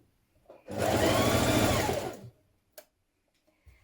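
A sewing machine runs in one steady burst of about a second and a half while understitching a gathered top, whirring fast and close before stopping, followed by a brief click.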